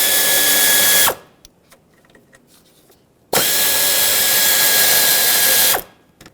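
A power ratchet removes the two 13mm mounting nuts from an AC line coupling on a 2008-2020 Dodge Grand Caravan, in two loud buzzing bursts of about a second and two and a half seconds separated by quiet handling clicks.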